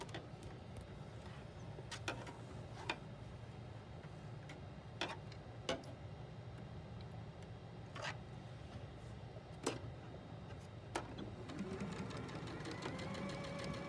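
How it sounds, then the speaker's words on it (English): A sewing machine stitches fabric with a quiet, steady mechanical whir and a fast rhythmic ticking, with a few sharper clicks along the way. "just let the machine very gently pull it through"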